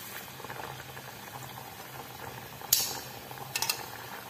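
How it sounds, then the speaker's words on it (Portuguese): Breaded chicken wings, coated in dry flour, sizzle and bubble steadily in a small pan of hot oil, a continuous close crackle with a couple of sharper clinks of a utensil near the end. "assim que você empanar na farinha seca, né? Você já traz pra fritar."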